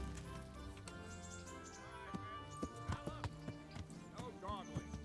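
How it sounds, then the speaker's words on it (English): Horse hooves clip-clop in a quick, uneven run of soft knocks alongside a short neigh and snorts in Kingdom Come Deliverance, fairly quiet against a low background hum. "this is my horse"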